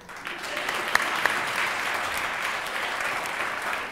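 A theater audience at a live stage performance of Peter and the Starcatcher claps together in a dense, steady roar of applause that stays even throughout, with a couple of sharper hits near the start.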